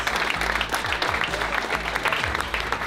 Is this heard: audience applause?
yes